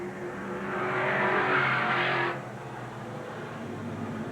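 Super Stock race cars in a 1986 Eugene Speedway main event roar loudly past, swelling to a peak and then cutting back to a steady engine drone from the pack.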